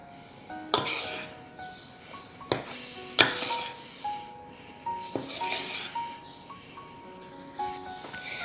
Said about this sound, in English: So now I'll stir it like this so that there will be some air inside the mixture.